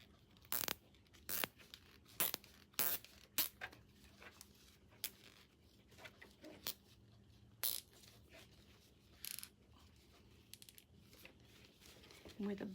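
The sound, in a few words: zip tie being tightened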